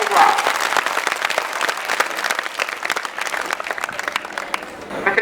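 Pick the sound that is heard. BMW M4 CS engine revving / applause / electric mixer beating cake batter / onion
applause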